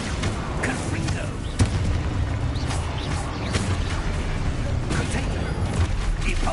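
The Confringo fire spell goes off in Hogwarts Legacy, a run of booming, crackling blasts layered with game effects while a player's voice talks over them.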